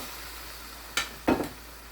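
Chicken pieces dropped into hot masala in a pan for murgh cholay: two sharp sizzling bursts as the meat hits the oil, the second louder and longer, over a low steady background hiss.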